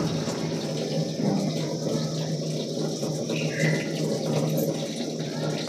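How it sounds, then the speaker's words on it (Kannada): Tap water runs steadily into the drum of an LG 7 kg top-load smart inverter washing machine, a constant close hiss and splash lasting throughout with no speech over it. "ಟ್ಯಾಪ್ ಏನದಂದ್ರೆ ನೀವು ಆನ್ ಮಾಡ್ಕೊಂಡು ಬಿಟ್ಟು ನೋಡ್ರಿ ನೀರು ಹೆಂಗೆ ಬರ್ತಾ ಇದೆ."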